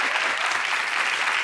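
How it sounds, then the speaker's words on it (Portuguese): Steady, dense audience applause at a televised interview with a Brazilian Supreme Court minister, an even wash of clapping with no talk over it. "Achei que vocês não iam aplaudir."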